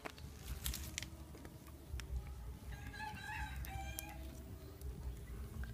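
A rooster crows faintly in the distance, heard over a low steady outdoor background with some light clucking and rustling.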